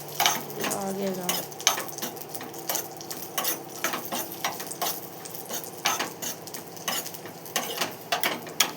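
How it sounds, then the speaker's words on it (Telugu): Dry fruits frying in a pan while being stirred, with a soft continuous sizzle and repeated scraping clinks of a utensil against the pan. "డ్రై ఫ్రూట్స్ అన్నీ వేయించుకోవాలి."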